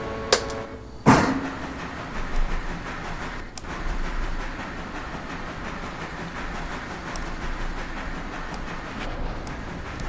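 Train rolling along rails in the rail-simulation game Railroader, a steady rumbling run with faint clicks, a sharp clank near the start and no talking.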